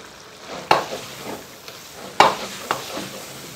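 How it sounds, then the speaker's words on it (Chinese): Pork ribs stir-fried in a wok with a splash of baijiu, giving a steady sizzle broken by two sharp scraping clanks of the spatula against the metal and softer stirring scrapes in between, close and alone. "加入处理好的排骨，再淋入一勺白酒，翻炒均匀"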